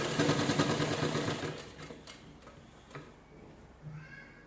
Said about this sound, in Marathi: ह्या साईडला पण तशी शिलाई करायची.